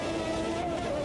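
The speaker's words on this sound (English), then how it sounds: "I'm really pushing the car now." A race car engine in the Automobilista 2 racing game drones with a steady, strongly tonal whine under hard acceleration, continuous and fairly loud throughout.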